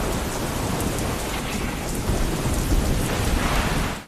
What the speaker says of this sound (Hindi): काले बादलों की खौफनाक घन गरज, आंधी और तूफान